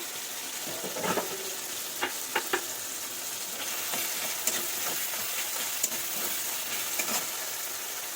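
Grated ginger goes into a frying masoor dal curry, which sizzles steadily. Several sharp utensil clicks and stirring scrapes sound close by.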